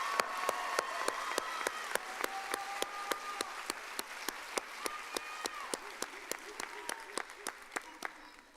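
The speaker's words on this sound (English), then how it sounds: "Let's give them another round of applause." Applause rings out at a high school commencement as an audience claps in a steady, even rhythm. Voices are heard talking and calling out over the clapping throughout.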